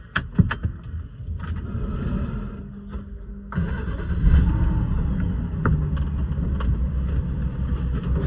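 A BMW 545i running on thicker oil pulls away on a test drive, its engine giving a steady low rumble that rises and grows louder midway through, with wind buffeting the microphone.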